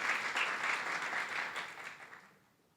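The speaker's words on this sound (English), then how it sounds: "we'll give him a round of applause" A crowd claps in steady applause after a speaker's talk at an academic conference paper session, gradually fading out over a few seconds.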